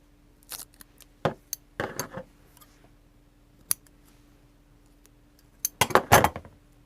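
Scattered snips of scissors cutting in an art studio, a few sharp, close clicks spaced apart, then a quick cluster of cuts near the end, with quiet gaps between and no speech.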